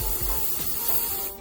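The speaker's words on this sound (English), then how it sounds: "We'll do the test spray first." A short aerosol test spray of Grabber Orange paint on a fishing lure, a steady close hiss lasting over a second before cutting off, with no one talking.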